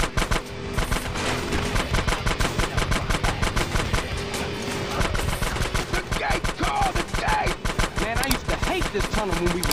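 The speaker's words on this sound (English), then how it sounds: "Shoot out the gate." Rapid automatic gunfire shooting out a sewer gate in GTA San Andreas, a dense, loud, unbroken stream of shots that runs throughout, with game sound effects mixed in near the end.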